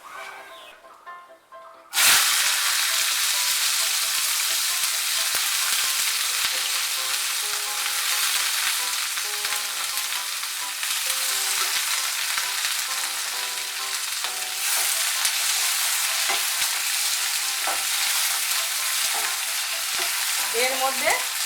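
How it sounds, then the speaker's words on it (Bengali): Cut bitter gourd dropped into hot oil for korola posto, a sudden loud hissing burst after a short quiet start, then a steady, close sizzle with stirring scrapes throughout. "একটু নাড়াচাড়া করে নিয়ে এর মধ্যে আমি কেটে রাখা করলাগুলো দিয়ে দেব।"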